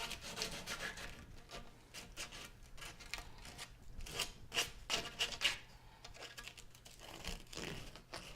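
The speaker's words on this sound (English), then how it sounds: "take a piece of sandpaper, sand the inside and outside of both pieces you just cut" Sandpaper rubs back and forth over freshly cut pieces for a mannequin skeleton, deburring inside and outside, making close, quiet rasping strokes in an irregular rhythm with no talking.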